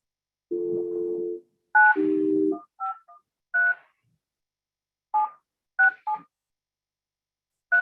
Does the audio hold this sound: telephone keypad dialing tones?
yes